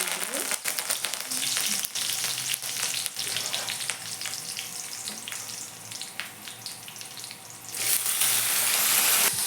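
Loud, steady sizzling of boiled legumes dropped into a hot pan, a dense crackling hiss that swells louder near the end, with no talking.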